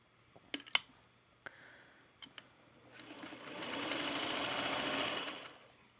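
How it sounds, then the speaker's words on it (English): A sewing machine stitches a spool-pattern quilt top, starting with a few sharp clicks and knocks as it is handled, then running steadily and fairly loudly for about three seconds before stopping. No one speaks. "All right, let's get back to sewing."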